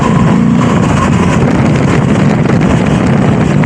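A Moto Guzzi V85TT motorcycle rides on the road, its engine drone steady and loud beneath heavy wind rush that buffets the microphone throughout, with no talking.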